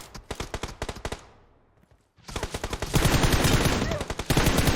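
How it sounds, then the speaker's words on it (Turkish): Enemies spray automatic gunfire in a video game, rapid bursts of loud shots that pause briefly, then return as sustained dense fire with scattered impacts. "Düşman tarıyorlar. Böyle bir tarama yok."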